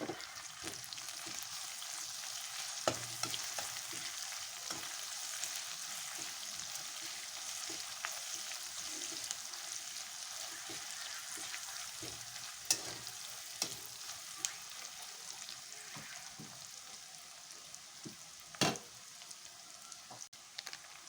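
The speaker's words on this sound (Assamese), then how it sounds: "এতিয়া ইয়াত আদা নহৰু খুন্দাখিনি দি দিম। ভালকৈ লৰাই দিম।" Ginger-garlic paste sizzles and fries in a pan for a fish curry, a continuous soft crackle broken by occasional scraping knocks of the stirring spoon, with no talking.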